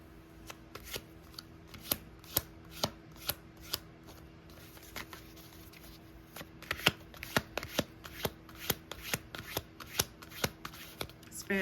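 Tarot cards shuffled by hand during a love reading, giving a steady run of crisp, close riffling snaps and flicks, nearly a dozen sharp bursts over a low room hum with no talking.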